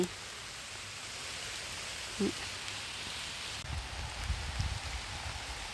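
Steady rain hisses evenly all around in a forest, a soft continuous patter with a few faint low thumps and rustles.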